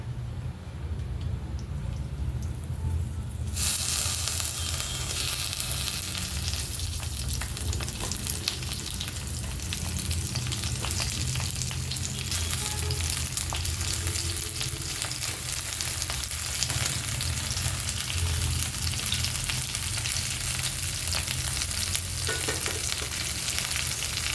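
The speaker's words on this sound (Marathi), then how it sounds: "तेल गरम झालं की आपल्याला वांगे तेलामध्ये टाकून घ्यायचे आहेत" Brinjals dropped into hot oil, the sizzle jumping suddenly louder a few seconds in, then a dense, steady, close frying crackle with occasional stirring, continuing without talk.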